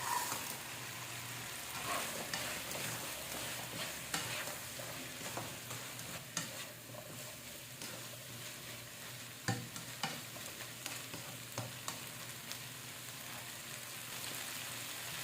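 Tofu frying in a pan for a tofu with shrimp dish gives a steady sizzle and crackle, with a few louder spatters and stirring scrapes along the way.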